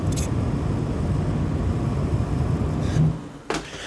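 Fans of a Cooler Master MasterLiquid Atmos 240mm AIO liquid cooler spinning at 50% speed give a soft, steady whooshing hum, broken only by a couple of faint clicks near the end.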